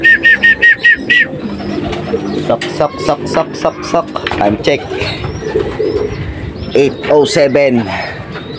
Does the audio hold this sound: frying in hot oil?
no